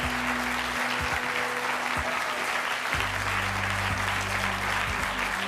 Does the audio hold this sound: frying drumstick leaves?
no